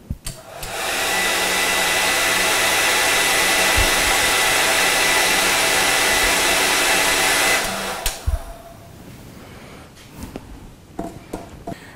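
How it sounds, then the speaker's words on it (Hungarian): A hair dryer blows loudly and steadily on sand in a demonstration of wind shaping the ground, roaring for about seven seconds before switching off, followed by faint handling noises. "Most akkor beindítom a hajszárítót."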